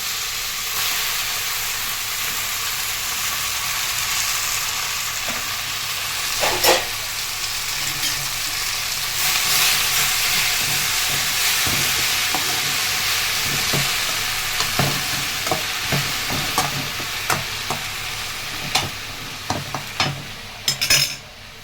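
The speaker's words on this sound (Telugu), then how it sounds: "నూనెలో కొద్ది నూనె అయితే వేసుకున్నాను గోంగూర వేసేస్తున్నాం" Gongura (sorrel) leaves frying in a little oil in a pan, a steady loud sizzle with stirring scrapes and clinks of a utensil throughout, no voices.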